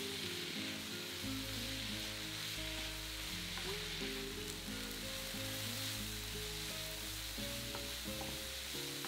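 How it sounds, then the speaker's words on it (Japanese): Vegetables and other ingredients for okara stir-fry in oil over medium heat, a steady sizzle broken by repeated scraping and clattering as the pan is stirred. "おから以外の具を炒めていきます。"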